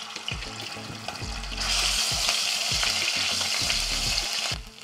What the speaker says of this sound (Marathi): तर हे आलं लसूण मी आधी परतून घेणार आहे.